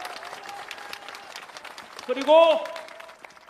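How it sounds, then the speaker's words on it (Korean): Large crowd at a political rally bursting into applause after a speaker's call for thanks, clapping swelling briefly and loudly under an ongoing amplified voice. "감사의 뜻으로 박수를 한번 크게 올려주십시오."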